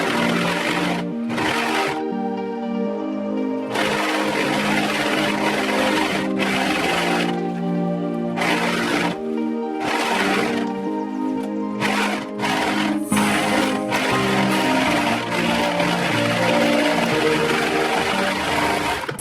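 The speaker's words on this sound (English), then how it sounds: "just sew all the way up that seam, and then I'm going to overlock it and then press it" Sewing machine running along the crotch seam of stiff cotton chino trousers, loud close-up bursts of motor whir with short pauses between runs, no talking.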